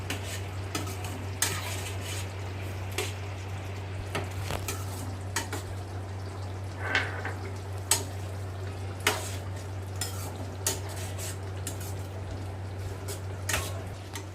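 Tomato egg curry being stirred after garam masala goes in: a low simmering bubble under repeated soft spoon clinks and scrapes against the pot, fairly quiet and steady.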